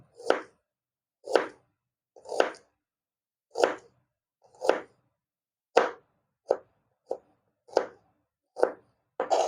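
A knife slices an onion lengthwise into thin strips on a board, giving about a dozen crisp, evenly spaced chops, close and clear against silence, with no talking.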